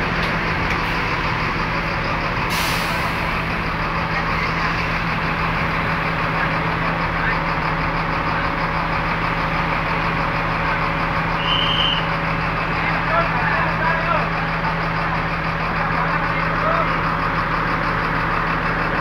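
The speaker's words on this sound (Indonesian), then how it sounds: "Diberangkatkan bis ALS Nopin 227 ya." ALS bus number 227 idling at the terminal before departing for Medan, a steady low diesel drone with a constant hum throughout and a brief hiss early on, under faint background voices.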